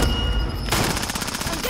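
Rapid automatic gunfire from a Call of Duty: Modern Warfare match crackles loud and close, a dense stream of shots running through most of the short stretch over heavy game ambience.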